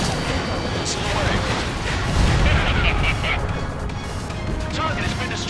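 Missile launch and explosions in the Ace Combat 7 video game, heard as a continuous loud roar of rumbling blasts and jet noise with no clear pauses.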